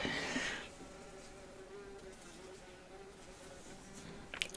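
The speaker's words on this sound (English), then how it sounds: "winged thing has flown in. I don't know if it's a bee or a wasp or whatever." An indoor bee or wasp buzzes around the room, a faint, steady drone with a wavering tone that carries on for several seconds after a brief louder burst at the start.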